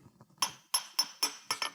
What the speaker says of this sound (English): And again, you just use a brass hammer